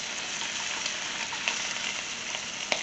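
Racks of lamb, already seared and with foil-wrapped bones, sizzle steadily in a hot pan, a dense even frying hiss with a couple of small pops and no voices.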